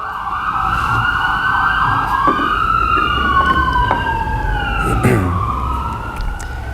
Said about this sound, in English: Let me just let that siren go by.